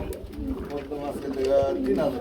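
Lahori pigeons, a grey-barred pair, coo in low rolling bursts at a pigeon seller's stall, close and steady throughout, mixed with people talking nearby.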